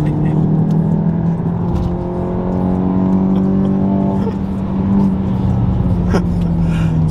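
A 2020 Volkswagen Golf 7 GTI 245 Performance hums loudly and steadily as it accelerates, heard from inside the cabin, with its pitch shifting through the run and brief bits of talk over it.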